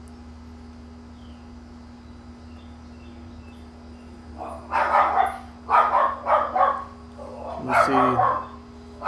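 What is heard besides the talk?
Chihuahua Black Lab mix dog barking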